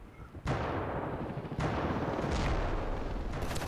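A weapon fires in a video game, making a loud, dense, roaring blast that keeps sustaining. Sharp fresh bursts come in at intervals, and the sound stays continuous and close from start to finish.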